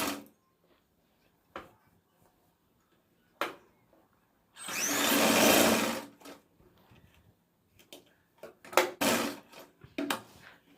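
A sewing machine stitching the sleeve seam of a four-tuck lined blouse, heard as short separate bursts with one longer steady run of stitching in the middle, close and alone in an otherwise quiet room.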